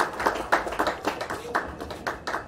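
An audience claps at the opening ceremony of a new KKF, STS and Finamatic facility, a close burst of irregular handclaps with sharp individual slaps rising and falling over a few seconds.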